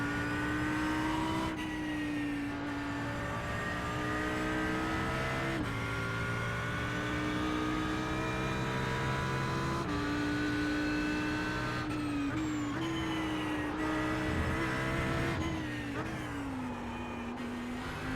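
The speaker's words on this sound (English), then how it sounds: "Just rolling the throttle, rolling the throttle, rolling the throttle." A GT3 race car engine in sim racing at Suzuka, held at a steady droning pitch under partial throttle for long stretches, with occasional quick shifts and rises in tone, continuous and close.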